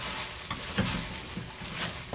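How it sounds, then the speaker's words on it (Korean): Hands working hot, freshly toasted seasoned seaweed flakes off the heat, a soft crinkly rustle and crackle that runs steadily for a couple of seconds, close and fairly quiet. "뜨거우니까 조심해서 이렇게 주물러줍니다."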